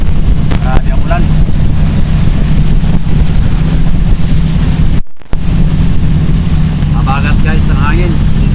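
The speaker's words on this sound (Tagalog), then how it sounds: "Mabagat guys ang hangin dito sa Pacific." Strong wind roaring over the Pacific during a heavy rainstorm aboard a boat towing another boat with a broken engine, a loud steady buffeting rush with a brief dropout midway, while someone talks through it.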